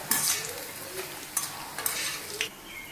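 Sago and rice vathal, sun-dried crisps, fry in hot oil with a soft sizzle as they are stirred, several brief scraping stirs breaking through the steady crackle, close and fairly quiet.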